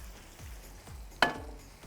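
Onions frying in a pan for achari biryani, a soft steady sizzle with a few faint stirring scrapes and one sharper clink of a utensil, no talking.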